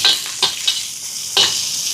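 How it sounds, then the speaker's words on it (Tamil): Curry chillies sautéing in a pan for Jaffna seafood puttu kottu, a loud steady sizzle with three or four sharp spatula scrapes at irregular intervals, close up and without talk. "இப்போ இந்த கறி மிளகாயும் கொஞ்சம் வதங்கட்டுக்கும்"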